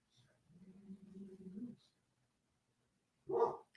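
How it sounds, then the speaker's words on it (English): A pet dog named Jackson barks indoors, with a brief burst of yips and a louder bark at the end, faint and somewhat distant in a quiet room with no one speaking. "Oh, Jackson's barking."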